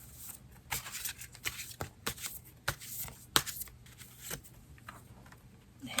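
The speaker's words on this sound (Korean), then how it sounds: "조언 카드를 하나 더 뽑도록 하겠습니다" Tarot cards being shuffled by hand before an advice card is drawn, quiet close-up riffling and sliding in irregular bursts of crisp snaps.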